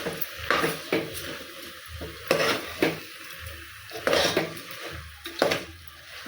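Mushrooms fried with salt in a pan for a mushroom biryani: a utensil clinks and scrapes against the pan in irregular strokes over a faint, low background.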